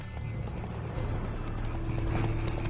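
Horse hooves clip-clop steadily along a road in The Witcher video game, a quick rhythmic patter close by with a faint neigh and background hum, no talking.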